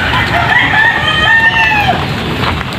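A Texas gamefowl rooster crows once, a loud, near, drawn-out call of rising and falling harmonic tones that holds for about a second and a half over steady background noise.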